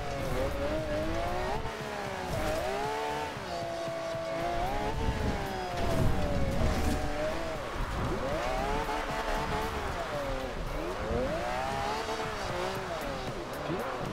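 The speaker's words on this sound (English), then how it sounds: "Pretty difficult trying to drift in this rain, but I'll try and make it happen" Car drifting sideways on a rain-soaked road in Forza Horizon 2, with the engine holding a steady sweeping whine that rises and falls through long slides, tire noise underneath, loud and continuous throughout.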